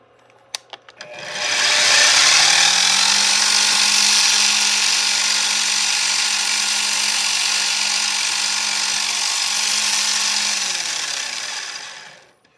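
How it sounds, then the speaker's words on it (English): A few clicks, then a drill whirs up and runs at a steady high pitch for about ten seconds, spotting a hole in a model lathe bed part, before winding down. "I might actually spot it with this drill bit"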